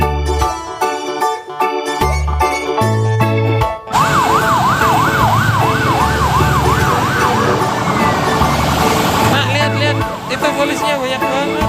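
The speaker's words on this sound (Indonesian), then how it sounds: "Mobil pemadam kebakaran adalah mobil unit siaga kebakaran." A wailing fire truck siren sweeps up and down loudly over upbeat children's music and voices, with the music playing alone before it starts.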